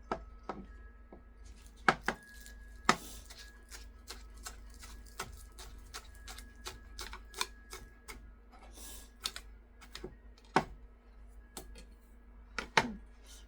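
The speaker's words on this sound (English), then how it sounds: "Let me cut this up." A knife chops food on a board while potato soup is being made, giving sharp, irregular chopping knocks that come near and fairly loud, some spaced widely, over a quiet kitchen background with no talk.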